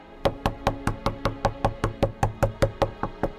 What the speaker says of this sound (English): Until the knocking came again.